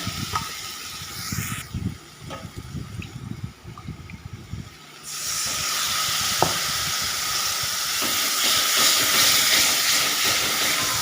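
Pointed gourd and potatoes go into fried spices and are stirred, with uneven scraping and low rumbling at first, then a loud, steady hiss of steam and sizzling that fills the pan.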